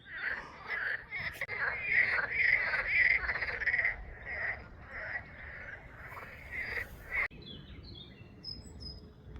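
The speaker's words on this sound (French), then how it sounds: "Les amours des crapauds." Toads croak in mating season outdoors in the morning, a dense chorus of rhythmic, trilling calls that rises and falls. A brief soft voice or rustle comes near the end.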